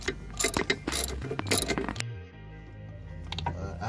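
A hand ratchet with an 8mm triple-square bit clicks rapidly while loosening axle bolts on a Volkswagen MK4 during clutch work, two close bursts of sharp pawl clicking separated by a brief lull.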